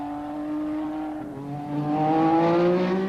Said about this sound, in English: Cosworth have produced an engine with full race boost, and the vicious power induces wheel spin on the wet surface